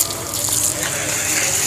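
Water poured onto aglaonema plant cuttings, a brief, close, steady splashing gush.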